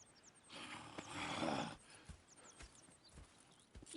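Horses in the video game Red Dead Redemption: a snorting, whinnying horse nearby, then soft hoof clops and shuffles, quiet and close with no talk.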